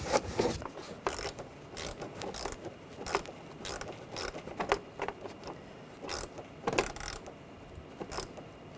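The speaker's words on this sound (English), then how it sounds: "Tighten down the worm clamp." A worm-drive hose clamp being tightened on a 2013-2019 Ford Escape during an ignition coil boot replacement: rapid, uneven ratcheting clicks and clatter, close and fairly loud, with no talking.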